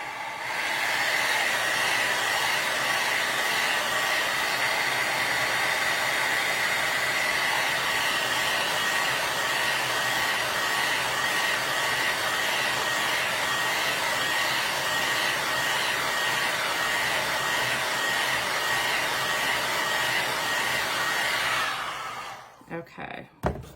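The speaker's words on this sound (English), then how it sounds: "Let's dry it so that when I bump it," A hair dryer blows steadily over decoupage tissue paper, a loud, close, continuous whooshing hiss with a high whine that holds for about twenty seconds before switching off.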